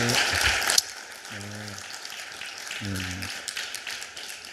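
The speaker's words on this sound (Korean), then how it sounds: "우리 목사님 나오실 때 박수 부탁드립니다" At a church breakfast prayer meeting, a burst of clapping greets a pastor, then drops to faint scattered claps while a voice sounds twice in drawn-out tones.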